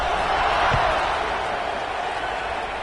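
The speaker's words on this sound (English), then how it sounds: "this crowd is buzzing after that last score" A football stadium crowd buzzes with a steady, loud roar and murmur during a college game between Arizona State and Iowa, with a commentator's voice over it.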